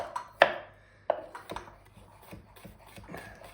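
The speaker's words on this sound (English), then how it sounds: "So now this garlic, what I'm going to do with this, I'm just going to finely chop it first" Garlic being finely chopped with a knife on a board, a few sharp, distinct cuts early on followed by softer, quieter scraping and tapping strokes, close up with no talking.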